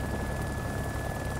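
A helicopter in the video game DayZ, its engine reportedly close to failing, throbs loudly and up close in a dense, continuous rotor-and-engine roar that fills the moment without talk.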